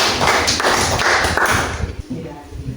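A school class claps hands together in a loud burst lasting under two seconds, followed by quieter voices in the room.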